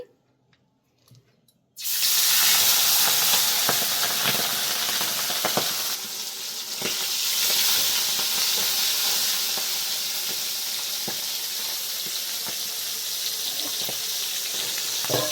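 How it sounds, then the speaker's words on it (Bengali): Fish heads rubbed with salt and turmeric drop into hot oil in a pan over a lowered gas flame. After near silence a loud, close sizzle bursts in, then settles into a steady frying hiss with small pops and crackles throughout. "তেল গরম হয়ে গেছে, গ্যাসটা আমি কম করে দিলাম। মাছের মাথাগুলো দিয়ে দিচ্ছি।"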